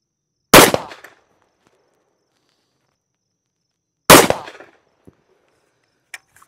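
Two sharp, loud gunshots about three and a half seconds apart from a Wilson Combat pistol in 460 Rowland firing 230 grain ammunition, each with a short echoing tail, followed by a few faint clicks.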